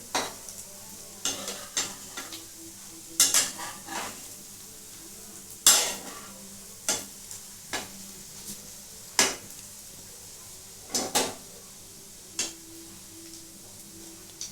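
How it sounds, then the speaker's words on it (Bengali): A sweet mixture of milk powder and bread frying in a pan over a low gas flame, with a spoon scraping and knocking against the pan in irregular strokes over a soft sizzle, no talking. "এটাকে একটু গ্যাস কমিয়ে কিন্তু একটু ভাজতে হবে।"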